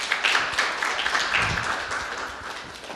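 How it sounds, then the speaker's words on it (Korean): Audience at a book talk event claps for the musician, a fairly loud burst of applause that gradually thins and fades over a few seconds, with no one speaking. "오늘도 어김없이 좋은 음악들 들려주신 슈퍼 배짱이님께도 큰 박수 다시 한번"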